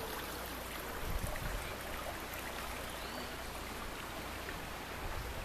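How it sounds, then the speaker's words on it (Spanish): Water runs steadily along an irrigation ditch beside the Atuel River near San Rafael, Mendoza, Argentina, a soft continuous gurgle and trickle heard at a moderate distance with no voices. "una acequia que distribuye agua por varios lugares y le da de beber al sediento"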